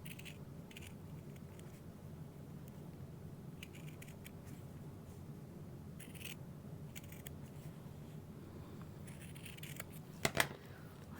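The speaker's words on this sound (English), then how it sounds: "I can cut my little zipper tabs out of there." Scissors cut out a wallet pattern in a quiet room with soft, steady snipping and crisp paper rustles, plus a few louder clicks near the end.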